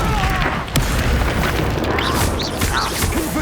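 Fiery Confringo spell blasts in Hogwarts Legacy during a fight at a campsite, a dense roar of booms and crackling bursts with whooshing magical tones layered over continuous battle noise.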